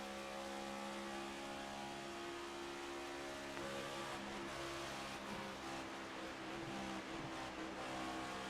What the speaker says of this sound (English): He is in and out of the throttle, just trying to maintain.